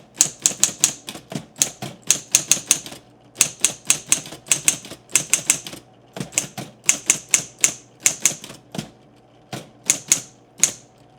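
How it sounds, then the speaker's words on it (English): An Electra 220 typewriter types out a short phrase in bursts of crisp, snappy keystrokes, several quick clacks per group with brief pauses between, close and clear with no talking. "The keystrokes are really smooth and responsive, and you get that satisfying snap as each letter hits the page."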